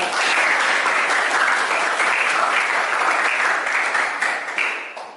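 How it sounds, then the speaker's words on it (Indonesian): A classroom group gives steady, sustained applause for a student who answered a question, dense clapping that holds evenly and then tapers off slightly at the end. "Beri aplaus pada Mas Prasetyo"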